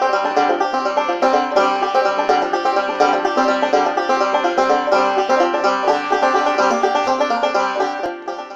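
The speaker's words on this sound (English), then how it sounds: "I play this thing, which is called a 5-string banjo because it has 5 strings." A 5-string banjo plays a bright, busy run of plucked notes, loud and close, with a steady rolling rhythm and no voice.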